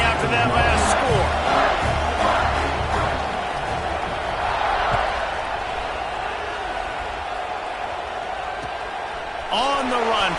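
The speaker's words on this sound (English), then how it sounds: "this crowd is buzzing after that last score" Football stadium crowd buzzing after a score, a loud, dense roar of voices and cheering that eases to a steady murmur, with a commentator talking over it.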